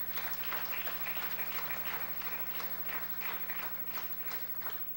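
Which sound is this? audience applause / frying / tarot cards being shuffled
audience applause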